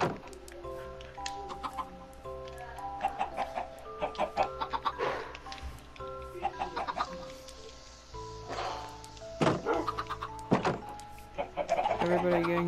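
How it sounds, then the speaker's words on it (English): Minecraft chickens cluck steadily in a pen, with repeated short blocky clucks over a low game music bed, fairly close and continuous. "Everybody gangsta till the chickens start escaping from their pen."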